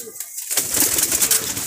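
Pigeons coo softly and close by while feeding beside quails, low rolling calls starting after a brief quiet moment.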